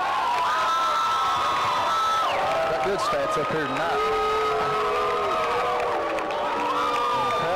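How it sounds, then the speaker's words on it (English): Crowd noise at a 1993 high school football game between South Floyd and Betsy Layne after a face mask penalty, a steady loud roar of shouting and whooping spectators with an announcer talking over it throughout. "The crowd here at Betsy Layne definitely not liking that call."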